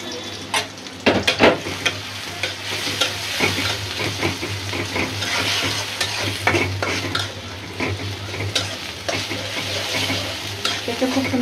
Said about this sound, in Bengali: খুব সুন্দর করে ভাজা ভাজা করলে তারপরে মশলা দেবো।